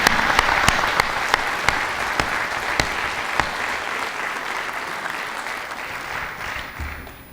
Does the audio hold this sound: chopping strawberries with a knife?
no